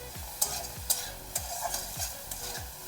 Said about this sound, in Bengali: তো আমি ভালো করে ভেজে নিচ্ছি